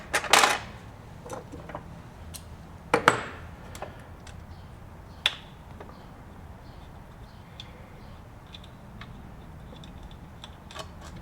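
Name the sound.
dropping two screws into sewing machine base plate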